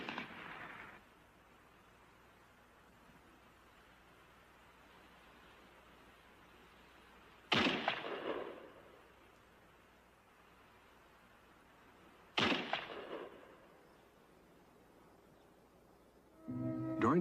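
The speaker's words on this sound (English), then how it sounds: "There was some casual shooting disturbing the quiet. A few snipers dueling to relieve the tension." Sporadic sniper gunfire in a wartime battle scene: three isolated, sharp shots with brief echoing tails, spaced several seconds apart over a quiet, hissing background.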